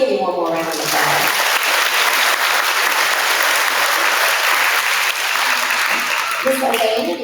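Sustained applause from an audience at a school awards day, dense and loud clapping that fills nearly the whole stretch, with a brief voice at the start and a little talk near the end.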